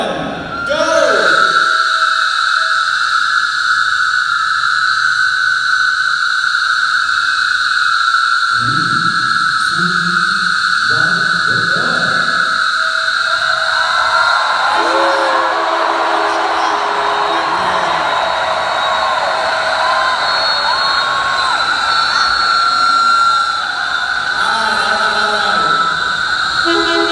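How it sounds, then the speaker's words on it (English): Thousands of train whistles blown at once by a Purdue stadium crowd during a 2018 world-record attempt form a loud, sustained, shrill chorus that swells after the start and holds steady over crowd noise. "every single person sitting in these stands right now is blowing their whistle"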